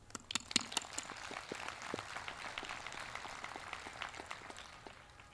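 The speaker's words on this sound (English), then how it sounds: "Please give yourselves another round of applause." Graduates of Cesar E. Chavez High School's Class of 2021 applaud at their ceremony, a steady, dense wash of many hands clapping with a few sharper, closer claps near the start, then fading slightly toward the end.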